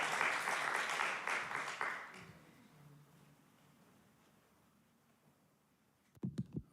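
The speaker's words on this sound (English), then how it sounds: "So please give yourselves a round of applause." Congregation at a church service bridging ceremony claps together in a short burst of applause that fades away within about two seconds, leaving quiet room tone before a few knocks near the end.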